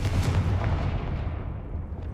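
A Confringo fire spell bursts in Hogwarts Legacy, a loud booming blast up front that rolls off and fades over the next couple of seconds.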